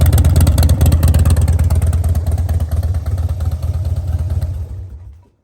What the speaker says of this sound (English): I think we fire up the Dyna